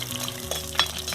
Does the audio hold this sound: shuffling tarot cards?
no